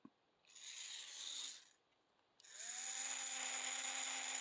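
A small HO scale Tyco slot car motor spins on a 12-volt battery, giving a steady high electric whine in two bursts, a short run, a brief pause, then a longer continuous spin, close by.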